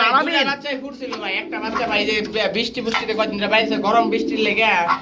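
Pigeons for sale, some with eggs and chicks, coo softly beneath constant nearby talk, with the cooing partly hidden by the voices.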